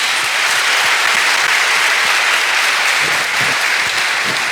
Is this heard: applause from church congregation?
yes